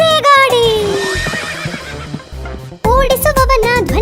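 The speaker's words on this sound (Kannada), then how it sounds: "ಗಾಡಿಗೆ ಕಟ್ಟಿದ ಕುದುರೆ ಎಳೆದರೆ ದಡಬಡ ಸದ್ದನು ಮಾಡೋ ಗಾಡಿ." A horse neighs loudly near the start and again toward the end while a horse-drawn cart clatters along, the whinnies ringing over a busy backdrop of sound.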